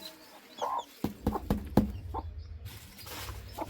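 A hen clucks near her chicks with short, close calls and soft murmurs, mixed with brief knocks and rustling from the enclosure.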